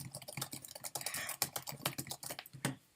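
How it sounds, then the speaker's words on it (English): Rapid, close clatter of keys being typed on a keyboard, irregular bursts of clicks with no voices. "I can see you typing in the comments right now."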